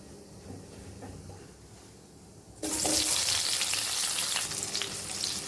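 Quiet crackling of cumin and mustard seeds in hot oil suddenly bursts into a loud, steady sizzle as chopped onions drop into the pan for a home-style cauliflower dish.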